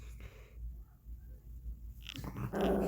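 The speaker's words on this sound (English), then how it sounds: "Sorry that my dog is barking in the background." A dog growls and huffs in the background behind steady room noise, low and muffled at first, then a louder burst of growly barking toward the end.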